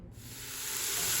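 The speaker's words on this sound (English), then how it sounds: "I'm going to go ahead and spray the bottom with a little nonstick spray" Nonstick cooking spray hisses steadily into the bottom of a pot before a beef pot roast is browned, a faint, continuous airy spray that builds slightly over about a second, alone without talk.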